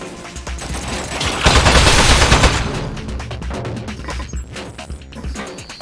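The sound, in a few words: turret firing gunshots in video game Aperture Desk Job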